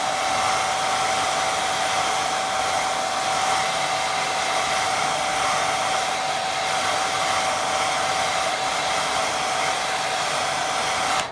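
A hair dryer blowing on a watercolour painting, a steady close-up whirring hiss with a constant tonal hum, running evenly without a break for about eleven seconds.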